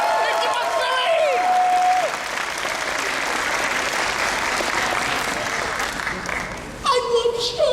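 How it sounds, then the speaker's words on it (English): An audience at an anime convention panel claps loudly and steadily, with a voice speaking over the start and more talk resuming near the end. "Give them a round of applause."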